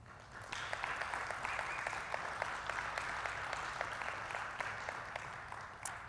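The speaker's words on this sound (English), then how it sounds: "Can we please have a round of applause for the support of these scholarships" A round of applause from the audience at a 2020 Miss Roy pageant, steady, even clapping from a modest crowd, faint and somewhat distant, lasting several seconds.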